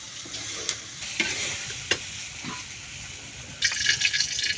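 Panch phoron and bay leaves fry in oil for a mango pickle, giving a steady hiss of sizzling with several sharp clinks and stirring scrapes, close by, and the sizzle rises louder near the end.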